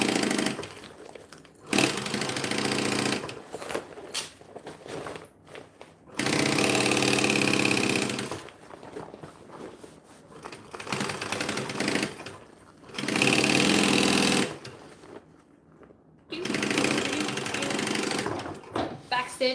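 Sewing machine stitching a bag, running in several long bursts of steady close whirring separated by short pauses and handling noise, with some talk in between.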